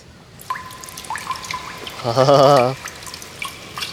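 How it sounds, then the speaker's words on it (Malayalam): Liquid nitrogen being poured in a science experiment gives a steady hiss with scattered drips and splashes, and a brief tonal squeal rises midway. "അപ്പോൾ നമ്മുടെ ലിക്വിഡ് നൈട്രജൻ ഒഴിക്കട്ടെ"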